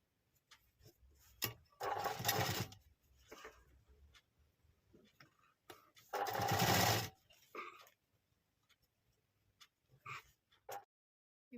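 A sewing machine stitching piping onto the front of a dress, running in two short bursts of whirring stitches separated by quiet handling noises and light clicks.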